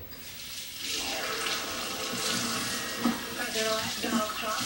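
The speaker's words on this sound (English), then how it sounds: "I'm going to pour a little bit of water into this and let it soak" Water is poured into a bowl in a home kitchen while cooking vegan kimchi, a steady splashing gush close by with a few louder plops toward the end.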